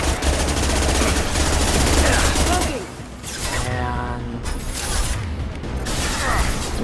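Gunfire in the Mass Effect 2 video game: loud, dense shooting and mechanical weapon noise at first, then a quieter stretch with scattered clicks and rattles before the action builds again.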